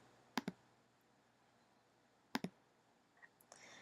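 Computer mouse clicking while browsing for a picture on a desktop: two quick double clicks a couple of seconds apart, crisp and close, followed by a few fainter clicks, with no talk.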